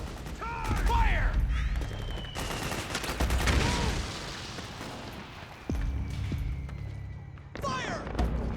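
Gunfire and combat effects from the video game Metal Gear Solid 4: Guns of the Patriots: bursts of shots and thuds under shouted soldier voices, loud and continuous with a sharp impact near the end.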